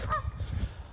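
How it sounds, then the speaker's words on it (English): Geese in the woods give a short, close honk over a low background rumble, one brief call within a second. "A couple geese over here."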